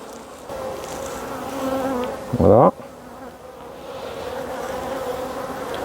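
Honeybees buzz steadily around a small nucleus hive during an April inspection, with a louder, close burst of buzzing in the middle as bees pass near.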